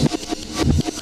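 Reversed breakbeat drum loop in an old-school breakcore style, with swelling, backward-sucking hits pulsing in a quick, choppy rhythm, up close and alone.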